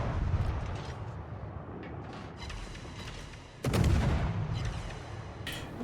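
Tashkent destroyer main guns firing in World of Warships, a series of sharp booming salvos at a quick rate over rumbling ocean and battle noise, one louder blast near the end.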